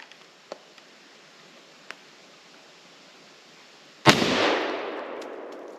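A single loud rifle shot fired into a tree outdoors, with a sharp crack and a long rolling echo, after a few faint ticks and rustles.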